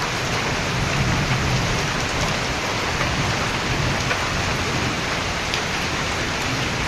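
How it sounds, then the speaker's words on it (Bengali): Light rain falls steadily in a village, a dense even hiss with soft pattering throughout and nothing else standing out. "হালকার উপরে বৃষ্টি হইতেছে একার উপরে উপরে বৃষ্টি হইতেছে"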